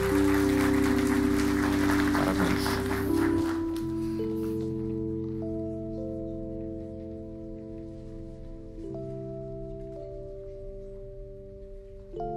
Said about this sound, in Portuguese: uma salva de palmas para o Dom